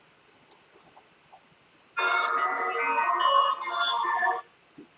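A phone call ringing over speakerphone during a live stream, a steady electronic tone lasting about two and a half seconds after a few faint clicks, moderately loud and alone.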